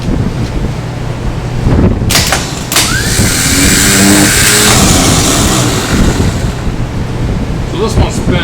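A 1964 Ford Galaxie's starter motor spins the engine, a close, loud whirring crank lasting several seconds amid background wind and clatter.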